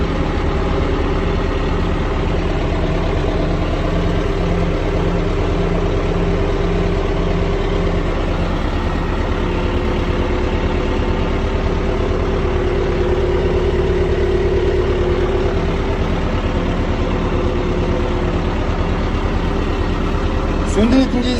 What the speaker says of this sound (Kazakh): Тек повышенныйда тұрған кезде трактор оталады.